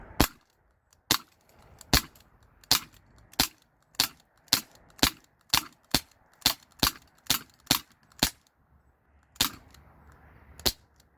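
A Glock 19 replica CO2 BB pistol is emptied in a mag dump, about fifteen sharp, evenly spaced cracking shots in quick succession at close range, then silence.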